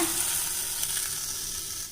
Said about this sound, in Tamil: இன்னொரு அடுப்பில் சும்மா கொஞ்சமாக எண்ணெய் விட்டு இப்போ இந்த தக்காளியை வதக்கி சேர்க்க போகிறேங்க